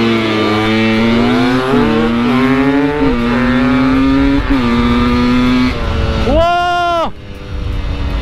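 Two dirt bikes, a Beta and a Thumpstar TSN 250S, race off-road in a field, their engines revving loudly with rising and falling pitch, one bike shifting up, then a sharp rev near the end; voices are heard.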